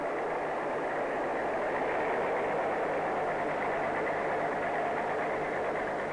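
An iron ore train from the LAMCO mine rolls along a single-track railway toward the harbor shunting yards in Liberia, a steady continuous rumble and rolling roar held at one level throughout, with no voices.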